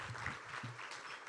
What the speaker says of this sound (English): can we just give one more round of applause?